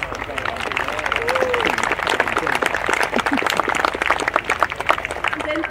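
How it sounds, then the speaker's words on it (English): An outdoor crowd at an air show claps for the RAF Falcons parachute display team, scattered, uneven applause with voices and background chatter mixed in throughout. "Go on, give them a big round of applause."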